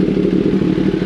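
A Kawasaki ZX10R sport bike with flashed engine tuning rides down the road, its engine a loud continuous droning roar heard close and steady throughout.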